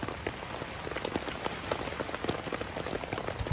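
Heavy, continuous rain falls on a camping site in Uttarakhand's mountains, a dense, steady patter of drops hitting the ground and tent with no let-up and no talking.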